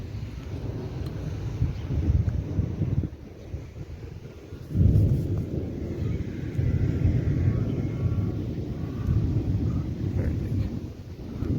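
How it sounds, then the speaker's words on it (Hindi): Thunder rumbles low and sustained during rain in a Saudi Arabian village, swelling into two heavier rolls over steady wind buffeting the microphone. "अभी भी बादल कड़कड़ कर रहे हैं"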